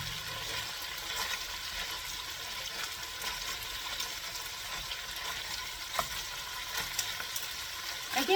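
Ground pork frying in a pan for a sausage, broccoli and rice casserole, a steady broadband sizzle and crackle with occasional stirring scrapes, close and constant throughout, no talking.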